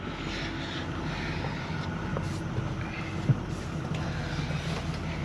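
A 2013 Tiffin Allegro Breeze 32BR Class A diesel pusher engine idles smoothly with a steady, even low rumble that holds level throughout, with one faint knock near the middle.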